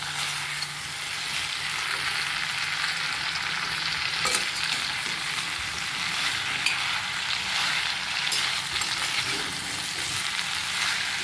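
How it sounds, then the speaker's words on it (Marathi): Bitter gourd sautéing in a pickle-style masala, a steady close hiss of frying oil that holds unbroken, with a few faint spatula scrapes and taps mixed in. "आपण असं कारलं हे चांगलं परतून घ्यायचं आहे मसाल्यामध्ये"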